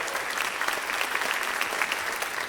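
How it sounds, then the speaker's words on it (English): A convention audience applauds the volunteer music team with dense, steady clapping from many hands that holds at an even level for the whole stretch, with no talk. "Yes, round of applause."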